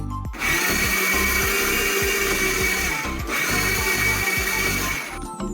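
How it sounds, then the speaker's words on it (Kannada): Mixer grinder blending mango with milk for mango pudding, a loud, steady electric motor whir with rattling blades running continuously for several seconds, briefly dipping before carrying on, no talk. "ಇದನ್ನ ಇವಾಗ ಗ್ರೈಂಡ್ ಮಾಡ್ಕೋಬೇಕು ಚೆನ್ನಾಗಿ"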